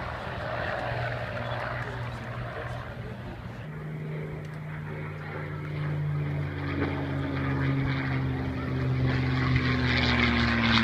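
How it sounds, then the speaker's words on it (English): A P-40 Warhawk propeller warplane flying at the Warbirds Over the Beach airshow in Virginia Beach, its steady droning engine roar rising and shifting in pitch as it passes, with people talking beneath it. "the P-40 Warhawk, just taken to the skies here in Virginia Beach"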